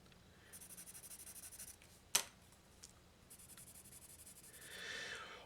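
Soft rhythmic scratching of an HB #2 graphite pencil moving across paper, a steady series of faint strokes with a sharp tap partway through, close and quiet.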